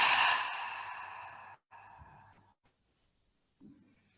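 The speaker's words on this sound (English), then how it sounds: "Taking a deep inhalation with me and breathing out with sound." A slow, deep exhale pushed out audibly through the mouth during a calm guided breathing session, starting strong and fading over about a second and a half, followed by a softer breath and quiet, then a faint low breath sound.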